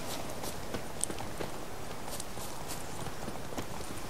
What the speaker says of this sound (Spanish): Vale, ahí tenemos un caballo. No, tenemos varios.